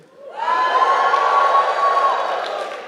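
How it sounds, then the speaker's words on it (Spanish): A church congregation lets out a loud, sustained joyful shout that swells quickly and holds for a couple of seconds, with a single high voice riding above the crowd. "No sé si usted quiere dar un grito de júbilo bendiciendo al pueblo de Israel."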